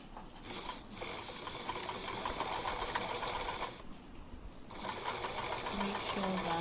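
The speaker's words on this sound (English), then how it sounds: "I'm going to go ahead now to stitch on the fabric." Sewing machine stitching through pinned fabric, a rapid rhythmic mechanical chatter that runs in bursts with brief pauses, close and clear, with a voice speaking faintly at times.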